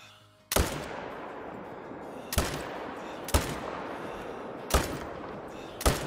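Five booming rifle shots from an AR 300 Magnum in the Call of the Wild hunting video game, each sharp loud crack trailing into a long rolling echo, spaced unevenly about a second or two apart with no talking.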